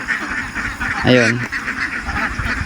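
Ducks quacking on a Philippine duck farm, a short burst of harsh, stacked quacks close by in the middle, with a person talking throughout.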